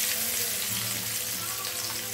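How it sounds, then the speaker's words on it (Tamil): Crushed ginger and garlic sautéing in a pan for tomato rice, producing a soft, continuous hissing sizzle. "இஞ்சி பூண்டு போட்டு நல்லா வதங்கட்டும்."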